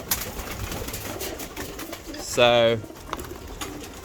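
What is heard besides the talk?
pigeons cooing at the loft trap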